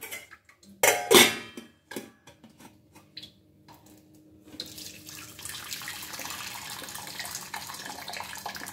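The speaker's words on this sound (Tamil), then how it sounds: "இதை இப்போ நம்ம வடிச்சிடலாம்." Cooking water from boiled unsalted legumes poured off into a kitchen sink, beginning with a few clinks and a loud splash, then settling into a steady rushing trickle of water.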